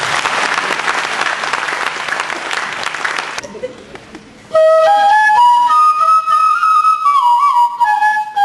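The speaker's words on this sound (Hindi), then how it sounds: "तालियां।" An audience at Rabindra Mandap in Bhubaneswar breaks into loud, dense applause for about three seconds, which fades and gives way to a melodic instrumental tune.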